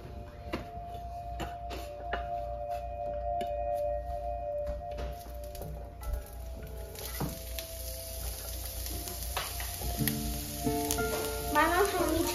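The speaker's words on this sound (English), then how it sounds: "Saute onions until they are golden." Onions sizzle steadily in a pan over low-medium heat on a home stove, a soft continuous frying hiss with occasional stirring clinks and light talk in the background.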